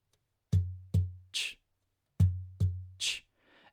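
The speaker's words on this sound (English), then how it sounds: "I hear a kick that goes like this." Percussive kick pattern tapped out on a guitar by the strumming hand: two low thumps followed by a brighter slap, repeated twice, close and dry against silence.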